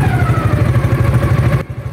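Motorcycle crossing a river in Mahaplag, Leyte, its engine chugging in a rapid steady rhythm close by with clattering, cutting off abruptly near the end.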